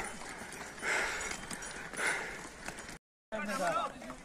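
Horses move along a dangerous mountain path on the Amarnath pilgrimage route, their hooves giving a few scattered clops amid outdoor noise and voices, with a brief dropout near the end.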